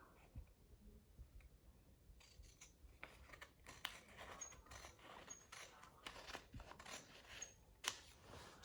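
Scissors cut fabric pieces for a face cap, a run of crisp snips and paper-like rustles starting after a quiet opening and continuing fairly close and steady, with no talking.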